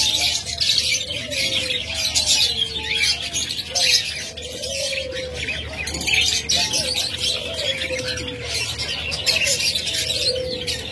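Caged diamond doves, budgerigars and lovebirds sitting on egg-laying nests fill the air with dense chirping, tweeting and soft cooing, a steady overlapping chorus of many birds at close range.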